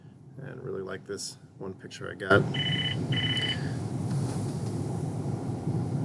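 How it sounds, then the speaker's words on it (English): A phone rings in the background with two short electronic tone bursts after a person speaks, the rings fairly faint under steady room noise. "Apologize for my phone ringing in the background."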